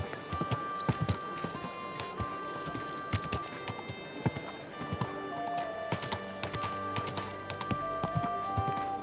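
Steady clip-clop of horse hooves at a brisk, even rhythm over a busy game soundtrack with tonal music, close and continuous, in Kingdom Come: Deliverance II.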